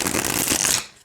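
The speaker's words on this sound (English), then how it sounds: "let's see how it shuffles" A Flights of Fantasy tarot deck gets one quick riffle shuffle, a brief, close, crisp flutter of cards snapping together that fades out in about a second.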